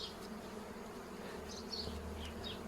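Dwarf honeybees hum steadily around their nest hung back in place in the forest, a soft continuous buzz with a few louder passing insects and no talking.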